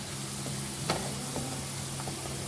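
Onions frying in a pan until light brown, a steady soft sizzle running throughout with a few faint stirring clicks, close and moderately quiet, no voices.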